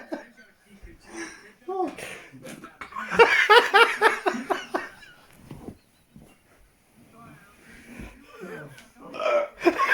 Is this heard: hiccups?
yes